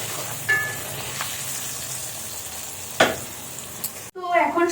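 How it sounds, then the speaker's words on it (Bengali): Potatoes fry in a generous amount of oil, a steady sizzling hiss with a couple of sharp spatters and a clatter near the end, no voices. "আলুটা ফ্রাই করতে কিন্তু একটু বেশি তেলে করলে বেশ ভালোভাবে ফ্রাইটা হয়।"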